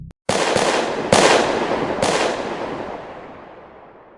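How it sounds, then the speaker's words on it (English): Several loud rifle shots crack in close succession, each blast ringing out with a long, fading echo, during the 1970 Kent State shootings. "Then the crack of gunfire shatters the air."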